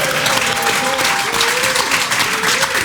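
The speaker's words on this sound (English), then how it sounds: "Let's give them a round of applause." Loud, continuous applause from a crowd celebrating the Springboks' Rugby World Cup 2019 final win, a thick, sustained wash of clapping with a faint tonal hum running underneath.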